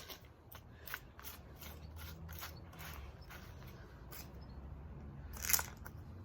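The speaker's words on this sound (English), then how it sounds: "Now screw these clips on." Plastic spacer clips are screwed onto porcelain patio slabs, giving a series of faint, close clicking and ratcheting sounds in a loose rhythm, with one louder snap toward the end.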